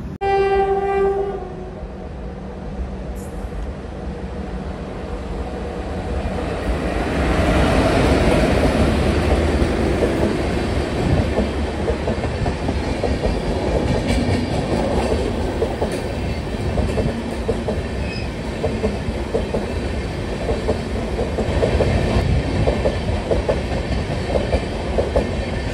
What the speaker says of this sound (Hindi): और ट्रेन जो हैं वो ओवरटेक करके जा रही हैं, जो हमसे पहले आने वाली ट्रेन हैं।